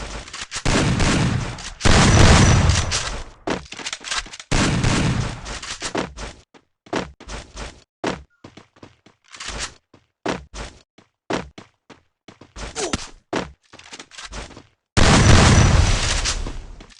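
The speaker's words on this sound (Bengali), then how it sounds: "মারতে পারি কিনা শটগান দিয়ে অনেক" Shotgun blasts in the Free Fire video game ring out in loud, sharp bursts, some rapid and clustered and others single, with brief gaps of near silence between shots.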